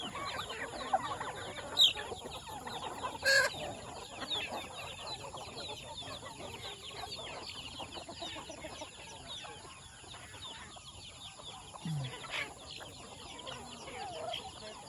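Jersey Giant chickens cluck and murmur in a noisy free-range outdoor flock with turkeys, scattered louder calls over a constant background hum.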